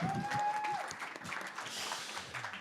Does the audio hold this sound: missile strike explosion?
no